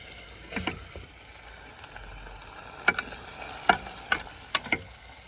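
Onion fries in a pan at a campsite, a steady soft sizzle under several sharp clacks and scrapes of a utensil stirring it, up close with a quiet outdoor backdrop.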